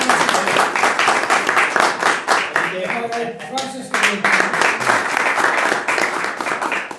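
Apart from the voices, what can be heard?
audience clapping for Brother Andrew at family camp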